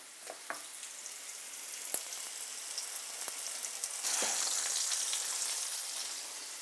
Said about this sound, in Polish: Będę je smażyła na złoty kolor z obydwu stron po około 2 minuty.